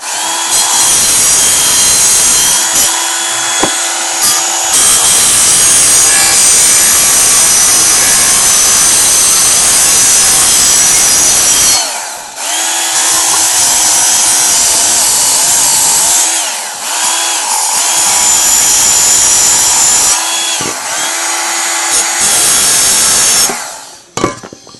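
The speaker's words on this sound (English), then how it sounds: "I've got a bit of a profile sander. It takes half of the time and does a better job" A profile sander working over wood loudly and up close, running in long continuous bursts broken by short pauses, a harsh buzzing whine with rough abrasive texture and no talking.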